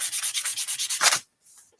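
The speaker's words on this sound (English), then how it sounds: "we're going to start once again with the" Sandpaper rubs back and forth over a magazine image to distress it, about nine quick rhythmic scratchy strokes up close, then one longer stroke and a sudden stop.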